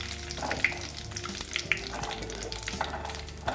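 Curry leaves crackle and spit as they fry until crisp in hot oil, a steady moderate sizzle with sharper pops scattered through it and a low background hum.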